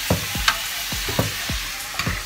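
Food fries and is stirred in a very small kitchen, a constant sizzle under sharp, repeated scrapes of a utensil against the pan at a steady rhythm, close and fairly loud, with no talk.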